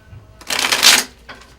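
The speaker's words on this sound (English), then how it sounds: "So what I do is I shuffle the cards basically so they feel right." A deck of tarot cards shuffled close up by hand: one loud riffling burst lasting about half a second, then a short softer ruffle. No voices.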